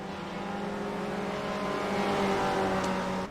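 Race car engine in a sim racing game at Mount Panorama, a steady sustained drone with a slight rise in pitch and intensity toward the end, continuous and fairly close throughout.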